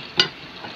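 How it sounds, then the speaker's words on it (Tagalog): Meat for Bicol express frying in a pan, a single brief stir or scrape over a soft continuous sizzle. "Atin na muna lutuin ang karne"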